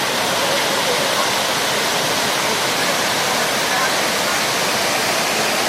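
Rushing water at Ezharakund waterfall pours as a dense, unbroken hiss and roar, close and steady throughout.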